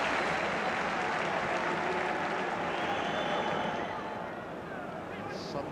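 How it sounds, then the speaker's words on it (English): Heavy rain pours down at a football stadium during a match, a dense steady hiss of wash filling everything, with crowd noise and commentary running over it. "Suddenly it's pouring with rain."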